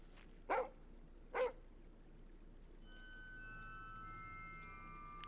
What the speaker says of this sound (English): Cute dog or mean dog?